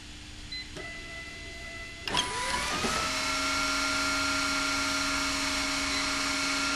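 A FoxJet label printing system's vacuum fan spins up after a click, its steady whirring hum rising and then holding at a constant pitch, with no talk.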